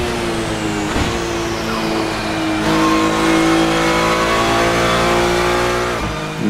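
A GT-M race car in the Assetto Corsa racing game accelerates uphill in third gear, its engine revving loud and continuous with rising pitch and brief dips at gear changes.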